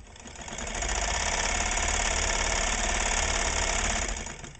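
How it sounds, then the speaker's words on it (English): Necchi 554 sewing machine running with a Supernova cam fitted, a loud, steady, dense mechanical whir with rapid knocking that holds evenly for several seconds, alone without talk. "this is a Necchi Supernova cam, and it fits in here beautifully and runs"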